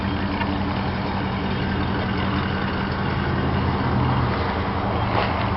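A 1998 Dodge extended-cab four-door pickup idles nearby, a constant low, throaty engine rumble that holds steady without any revving.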